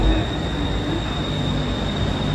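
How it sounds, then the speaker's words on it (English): A BTS Skytrain elevated metro train in Bangkok rumbles and hisses steadily nearby as it arrives, a continuous rolling roar with faint wheel squeal, no voices. "This is BTS elevated train or SkyTrain."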